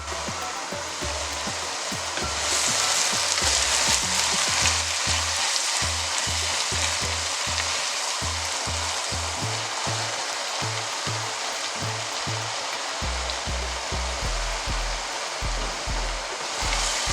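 Spinach wilts in a hot pan with no water added, a continuous loud sizzle that runs throughout, broken by repeated low knocks from stirring.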